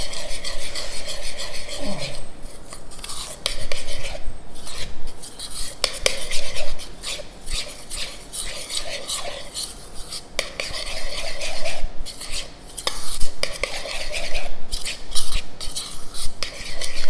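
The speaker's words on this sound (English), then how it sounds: "so I'm just going to mix that real good" A spoon stirs muffin batter for zucchini apple muffins in a bowl, a continuous scraping, rasping rhythm with repeated clinks against the bowl's sides, close and fairly loud, with no voices.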